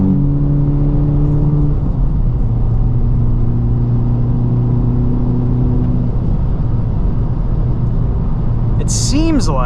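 2023 Honda Civic Type R engine and exhaust with the valve open in +R mode, a steady loud drone under sustained humming tones, heard close from inside the car while driving on backroads.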